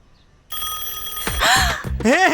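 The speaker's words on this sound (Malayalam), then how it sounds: "അയ്യോ, ഫോൺ വന്നു" An incoming call sets a telephone ringing with a bright, steady electronic tone that starts abruptly and continues while people begin talking over it close by.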